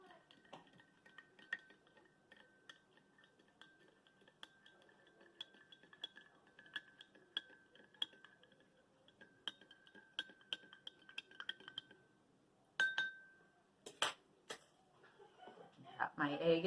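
Teaspoon stirring salt into water in a glass during a density experiment: quiet rapid clinks of metal against glass repeat for several seconds, followed by a few louder taps and some rustling, with a voice talking.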